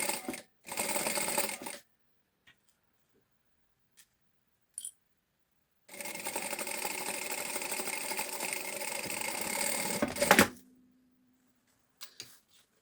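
A sewing machine runs a seam along the edge of a fabric bag, two bursts of rapid mechanical stitching, a short one and then a long steady run, separated by quiet pauses and a few small clicks.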